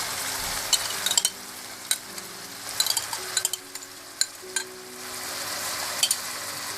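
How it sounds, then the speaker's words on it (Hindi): Chilli chicken with soy sauce, white vinegar, sesame oil and chilli garlic sauce sizzling steadily in a pan while being stirred, with scattered sharp scraping clinks of the spoon against the pan. "और अच्छी तरह से मिला लें।"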